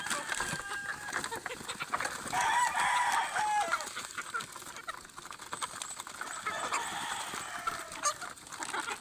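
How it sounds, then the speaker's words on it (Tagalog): Three-month-old capon chickens at a gamefarm cluck and crow in a lively, continuous chorus. One rooster's crow stands out near the middle, and light scratching and patter sit underneath. "Ang Manok ko guys, manok naman ito."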